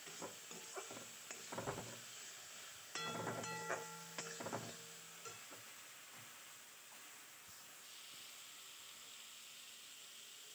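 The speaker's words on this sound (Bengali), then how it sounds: "কড়াইয়ে দিয়ে ভালো করে নাড়িয়ে চাড়িয়ে জল ছাড়া পর্যন্ত ওয়েট করতে হবে" Food fries in a kadai over medium heat while a spatula stirs it, making a soft continuous sizzle with bursts of scraping and clattering strokes against the metal. The sound is quiet and close, with no talk.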